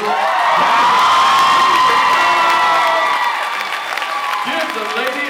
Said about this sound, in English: Give the lady a round of applause if you please.